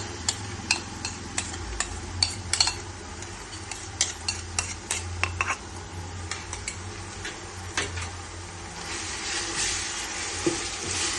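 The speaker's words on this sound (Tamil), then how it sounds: "நம்ம பற்ற வச்சு வெங்காயம் ஒரு 15 நிமிஷம் வதங்க வேண்டியதாக இருக்குது" Onions sautéing in a pan for chicken biryani, with a low steady sizzle under repeated sharp clicks and scrapes of a spoon stirring against the metal, close and moderately quiet.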